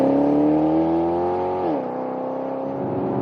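A Maserati GranTurismo MC Sportline engine in sport mode revs with a loud, close, rising tone, then the pitch drops sharply as it shifts and settles into a steadier lower drone.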